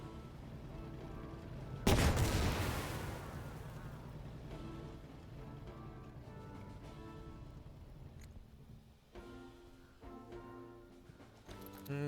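A single heavy gunshot or cannon blast booms in a video game battle, followed by a long fading tail over a steady background of game music and ambience, with a fainter report near the end.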